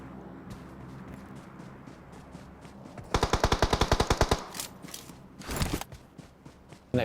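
Automatic gunfire in the video game PUBG: a rapid burst of about a dozen loud, evenly spaced shots, followed by scattered lighter clicks and another short burst, no talking.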